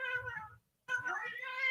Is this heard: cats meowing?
yes